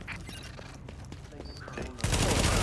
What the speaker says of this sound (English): Reporting gunfire in the station above us